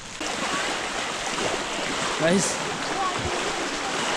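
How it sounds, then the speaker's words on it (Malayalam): Floodwater rushing past houses and a road during heavy rain, a broad steady wash of flowing water with a faint brief tone in the middle. "കുതിച്ചു ഒഴുകുന്നുണ്ട് വെള്ളം"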